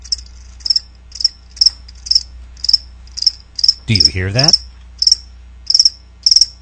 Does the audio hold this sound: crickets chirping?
yes